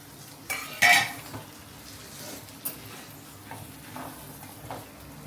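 Prawn fry with coriander being stirred in a pan, with a sharp scrape and clatter of a utensil near the start, then soft intermittent stirring taps over a low, steady sizzle.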